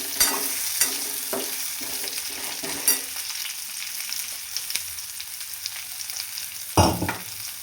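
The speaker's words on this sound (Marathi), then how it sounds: "ह्याच्यामध्ये शिजायला पाणी टाकायचं आणि हे कमी गॅसवरती परतून घ्यायचं" Stuffed brinjal sautés in a pan over low gas, a soft continuous sizzle broken by a few scraping stirring strokes near the start and one louder scrape toward the end.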